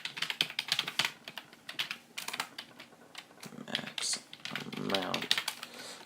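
Fast, uneven typing on a computer keyboard, close and crisp with dense clicking keystrokes, while someone speaks over part of it.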